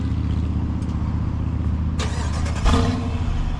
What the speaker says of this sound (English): Let's do a quick little remote start while we're back here.